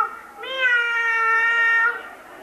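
A voice imitating a cat meowing in a children's play of La ratita presumida, one long drawn-out meow, close and clear, rising and fading over about two seconds.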